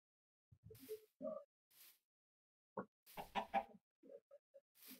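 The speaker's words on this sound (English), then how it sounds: "Seriously, chickens. Why do you get stuck in the leaves?" Chickens in the Minecraft video game cluck in short, scattered bursts of varying loudness, irregularly spaced against a silent background.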